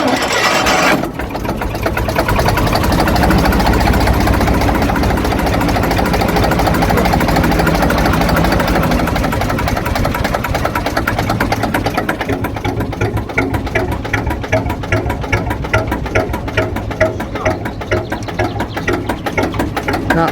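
A Lister JS3 engine runs on a canal boat on the Lancaster Canal, a loud, steady rhythmic chugging and knocking that continues unbroken and close, settling toward a slower tick over.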